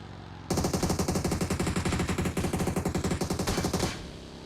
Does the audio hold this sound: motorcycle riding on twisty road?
no